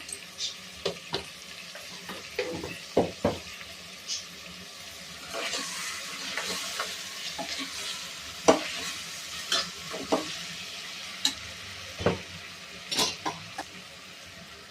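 Masala rice frying in a pan for a simple white palav, a soft continuous sizzle broken by scattered scraping clicks from a spoon stirring, fairly quiet and close.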